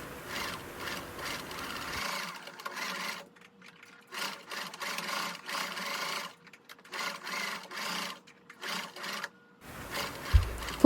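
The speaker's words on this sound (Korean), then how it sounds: "앞 단추분을 먼저 봉제합니다." A sewing machine stitches the front button placket of a shirt-collar dress in several short bursts of rapid needle hum, separated by brief pauses, close and clear with no speech.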